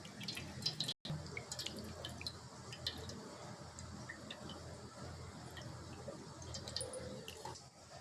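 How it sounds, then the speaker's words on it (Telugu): Tamarind pulp is strained for a fish curry, giving faint, close dripping and wet squishing of liquid falling through a filter, quiet and irregular, with no talk. "ఇప్పుడు చింతపండు గుజ్జుని ఫిల్టర్ చేసుకుందాం."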